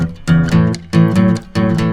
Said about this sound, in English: So there we did 8 measures of the 12-bar blues in E.